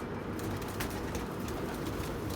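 Pigeons coo in a loft of red and white birds, soft repeated calls set against a steady, dense background hiss throughout.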